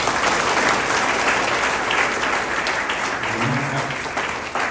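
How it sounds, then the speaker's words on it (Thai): A crowd applauding steadily for several seconds, dense clapping filling the room at even loudness. "ขอเราปรบมือขอบคุณซึ่งกันและกัน"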